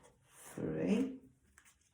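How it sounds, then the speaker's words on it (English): Tarot cards being shuffled by hand, a single brief, soft riffling rub close up, rising and fading within about half a second in an otherwise quiet room. "So I'm going to shuffle again in front of the camera."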